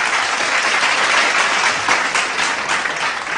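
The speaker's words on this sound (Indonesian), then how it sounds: "Beri tepuk tangan yang meriah untuk program sosial Bank Indonesia Dedikasi untuk Negeri." Loud, dense applause from a ceremony audience honoring a Bank Indonesia social program, a steady wash of clapping that holds for the whole stretch with no voices over it.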